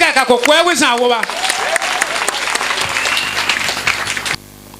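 A church congregation at a regional convention applauding in acclamation of Jesus Christ, loud dense clapping that begins after a brief voiced passage and cuts off abruptly near the end.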